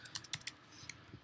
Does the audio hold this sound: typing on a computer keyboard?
yes